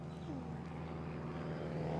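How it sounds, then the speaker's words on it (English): A propeller airplane drones steadily high overhead, a faint, distant hum with no other sounds. "Plane flying high in the sky."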